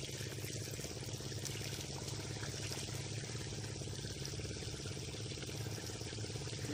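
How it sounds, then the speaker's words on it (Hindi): Water poured into a plant pot from below gives a soft, continuous trickle and pour at low volume, steady from start to finish with no talking. "नीचे से पानी देना पड़ेगा ये दे रहा"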